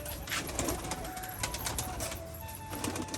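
Rajshahi pigeons coo softly in repeated low, rolling calls at close range, over a steady hum of background noise, with no talking.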